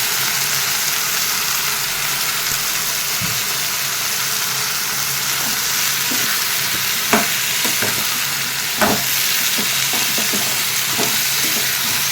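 Brinjal and onion fry in a pan with a loud, steady sizzling hiss, broken by occasional sharp scrapes and taps of a stirring utensil, close up and with no talking.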